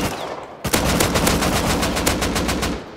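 Gunfire in the survival game Rust: after a brief quiet moment, a sustained rapid automatic burst rings out in a fast, even rhythm, loud and close, with no talk over it.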